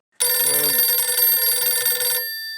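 A telephone bell rings in one sustained, loud, continuous trill lasting about two seconds, then cuts off, leaving a faint fading tone.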